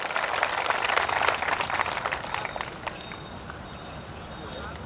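Loud, dense clapping rises from a large crowd at a religious festival marking a guru's 50th nirvana anniversary, strongest at first, then thinning and fading as a voice carries on.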